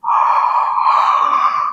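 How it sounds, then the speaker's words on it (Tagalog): A person gives a single long, breathy yawn, demonstrated as a jaw-problem (TMJ) exercise; the close, steady exhale lasts nearly two seconds and ends abruptly, with no talk. "ganito ang hikab natin."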